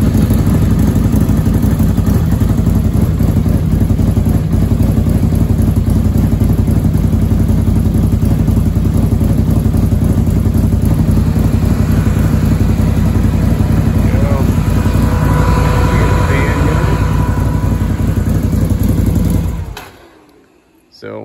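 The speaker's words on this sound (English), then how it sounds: "We're just gonna start the bike up, let it idle for a minute" A Can-Am Outlander 800 ATV engine runs steadily at a loud, close idle with a low rumble, then cuts off abruptly near the end.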